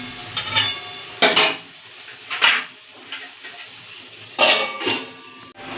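Metal kitchenware clinks and clatters near a pan of tomatoes as a lid is set on, a few short separate knocks and scrapes over quiet background, without talk.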